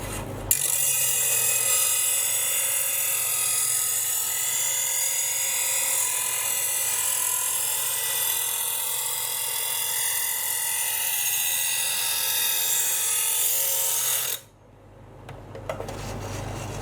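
A knife blade worked on the fine side of a sharpener, a steady high grinding whine held for about fourteen seconds before stopping abruptly, followed by faint handling noises.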